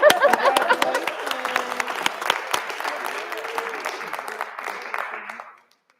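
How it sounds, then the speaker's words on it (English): A group of people applauds warmly, the clapping and a few voices gradually thinning out before stopping abruptly. "Let's clap again, please."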